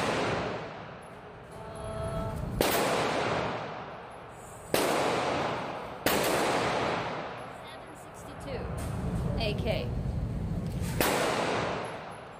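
An AK 7.62 rifle fires four loud single shots spaced seconds apart, each cracking sharply and trailing off in a long echoing decay outdoors.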